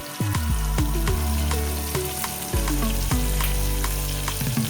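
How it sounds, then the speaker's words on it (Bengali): Potatoes and cauliflower fry in ghee with whole spices, a loud sizzle broken by repeated sharp metallic knocks of a spatula against the pan, no talking. "ঘিতে ফোড়ন দিয়ে আমি আলু আর কপিগুলো ছেড়ে ভাজা ভাজা করছি।"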